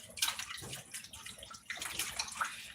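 Cold water runs and splashes over skinless chicken breasts being rinsed with distilled white vinegar in a sink, an uneven gushing and spattering that surges in bursts.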